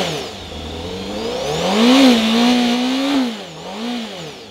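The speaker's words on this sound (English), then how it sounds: "Let's give it a few revs, shall we?" A 2020 Honda Fireblade SP motorcycle engine revs up from a steady tick-over, rising in pitch twice with a long blip in the middle, loud and close with no talking.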